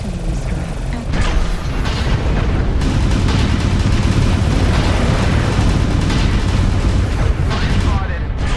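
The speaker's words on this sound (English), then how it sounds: "Artillery strike activated." Heavy artillery strike explosions in the mech combat video game MechWarrior Online, a dense, continuous barrage of loud booms and rumbling impacts that starts about a second in and keeps pounding to the end, with a voice heard over it.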